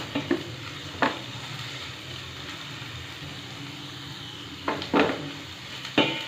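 Garlic and onion sautéing in a pan for chicken afritada, a low steady sizzle with a few sharp utensil scrapes and knocks against the pan.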